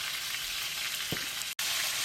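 Potato pieces frying in a pan with a pinch of asafoetida, a steady soft sizzle and crackle close by, with one faint clink and a brief dropout near the end.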